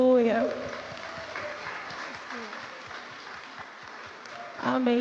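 Soft, rhythmic clapping from a congregation at a church music school's opening class, faint and even through the middle, with a voice speaking at the start and end.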